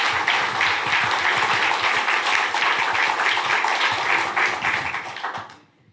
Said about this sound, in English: So please give a big round of applause for the three artists.